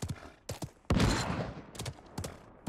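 Gunfire in the Realm Royale battle royale game: several loud, close bursts of rapid shots with one sustained heavy volley, interspersed with shorter cracks and brief gaps.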